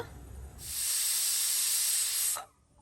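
Steam hisses steadily from a pressure cooker releasing its pressure after cooking masala pulao rice, a loud continuous burst lasting under two seconds that then cuts off abruptly.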